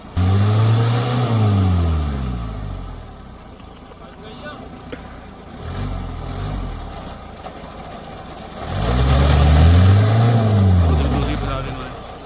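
A stuck off-road vehicle in the jungle revs its engine in two loud, rising and falling surges with a quieter stretch between, while people talk nearby.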